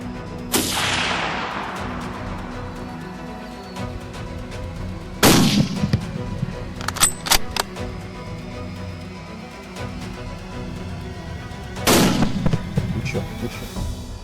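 Three sharp rifle shots ring out during an African buffalo hunt in open country, spaced several seconds apart. Each booms loudly and trails off in a long rolling echo over steady outdoor background noise.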